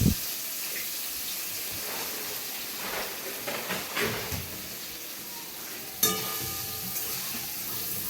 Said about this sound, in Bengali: এঁচোরটা ভাজা হচ্ছে